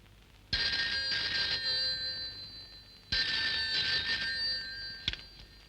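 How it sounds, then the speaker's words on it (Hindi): A telephone rings twice in bright electronic bursts separated by a short pause, followed by a brief click at the end. "उदय, जीजा जी को फोन कर दे"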